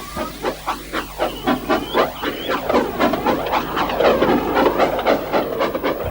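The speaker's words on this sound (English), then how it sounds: "and James was able to pull the train." A steam train hauls a string of coaches, its engine hissing steadily while rhythmic wheel and rail clatter runs loud and close the whole time, with no talking.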